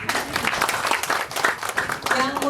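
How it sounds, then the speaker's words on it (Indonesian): An audience at a groundbreaking ceremony for a building claps steadily throughout, a dense, close round of applause under which a voice is faintly heard. "Boleh tepuk tangan."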